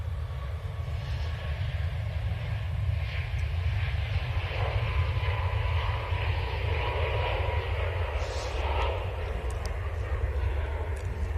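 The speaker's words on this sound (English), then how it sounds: "I can hear the Antonov" A distant Antonov cargo plane drones steadily overhead near Manchester Airport, a broad, even roar that holds for the whole stretch with no talk over it.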